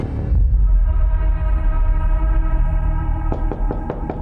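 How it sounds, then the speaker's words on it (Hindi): Knocks on a door come in a quick cluster of sharp raps near the end, following a sustained low droning hum in a Crime Patrol crime drama scene. "आलिया, दरवाजा खोलो"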